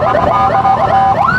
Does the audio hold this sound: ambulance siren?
yes